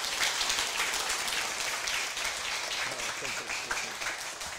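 An audience applauds at the closing ceremony of a senior administrative training class, a dense steady clapping that fills the room, fairly distant and continuous throughout.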